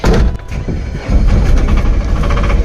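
An engine turns over and catches, then settles into a loud, steady rumble close by.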